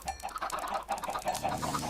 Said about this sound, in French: cette orgie de poulets